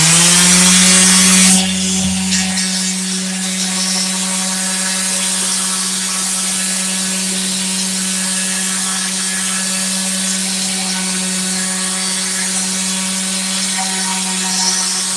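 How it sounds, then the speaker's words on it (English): A power tool sands a bullnose edge on granite tile with a loud, steady grinding whine and a constant motor hum, the pitch shifting as the tool bites in after the first seconds. "And I just started to sand."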